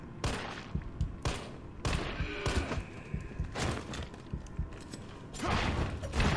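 Gunfire in the game Resident Evil 3, dense bursts of shots and mechanical clatter repeating throughout, loud and close with thuds between volleys.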